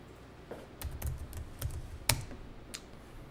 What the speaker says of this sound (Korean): 탭키 눌러서